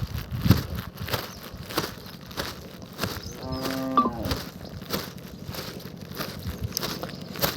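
Cattle on a Telugu farm where tomatoes were just picked, with a low moo rising around the middle amid shuffling hoof steps and outdoor crackle, moderately near.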